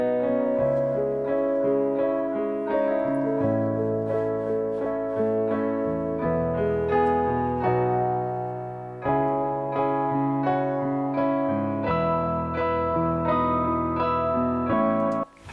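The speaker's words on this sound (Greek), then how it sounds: "Το πιάνο ακούγεται κάπως έτσι." Piano part from a pop song plays alone, with sustained chords and melodic notes flowing steadily and clearly.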